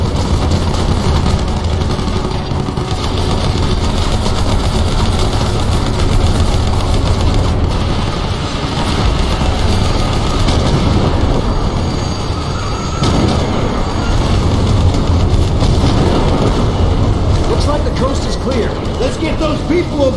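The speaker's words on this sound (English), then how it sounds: "Get on the train." Train in Terminator Salvation, with engine and railcars giving a loud, continuous mechanical clatter and grinding rumble throughout, dense and unbroken, with voices heard over it.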